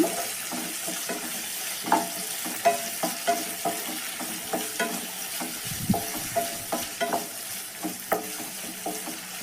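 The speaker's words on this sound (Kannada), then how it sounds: "ಇದಕ್ಕಿವಾಗ ಟೊಮೊಟೊ ಸೇರಿಸ್ಕೊತಿದ್ದೀನಿ ನಾನು ಸ್ವಲ್ಪ ಇದೆಲ್ಲ ಚೆನ್ನಾಗಿ ಫ್ರೈ ಮಾಡ್ಕೊಳ್ಳೋಣ" Tomatoes fry in a pan for a coastal-style fish curry. A soft sizzle runs steadily underneath while a spoon scrapes and stirs with regular, rhythmic clicks and knocks, close and clear, with no talking.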